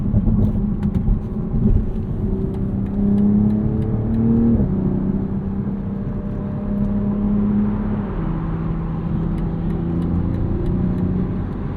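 A 2023 BMW Z4 M40i engine accelerates hard in sport mode while merging, a steady loud drone with rising and shifting tones through gear changes, heard from inside the cabin with no talking.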